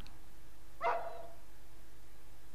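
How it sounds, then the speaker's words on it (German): A dog gives one short bark in the survival horror game Rule of Rose, faint and fairly distant against a quiet low hum. "Und jetzt kläfft auch noch ein Hund."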